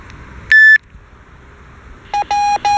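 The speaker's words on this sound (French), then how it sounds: "le relais de Saintes qui se déclenche, qui est à 60 km de moi" An amateur radio repeater in Saintes, about 60 km away, answers over a radio receiver with one sharp high beep, then a quick series of three lower tones after a hissy pause.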